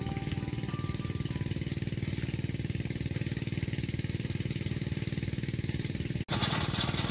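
A diesel irrigation pump engine thumps steadily and loudly in an Indian village field, its rapid chugging rhythm continuous throughout, with a brief dropout and harsher burst near the end.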